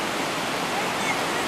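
A waterfall at Yellowstone roars as a steady broadband rush of falling water, loud and unbroken, with no clear voices over it.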